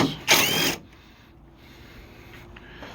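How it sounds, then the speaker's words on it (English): Ratchet wrench loosening 10 mm core support bolts on a Jeep Commander during radiator replacement, a short loud burst of ratcheting clicks that fades to quiet background. "Okay, next step, core support, cross member, whatever, 10 millimeter. Remove the bolts."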